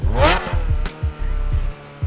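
A 1995 Ferrari F355 Berlinetta engine revs hard through a loud exhaust, with sharp throttle blips and a deep rasping roar rising and falling in quick succession.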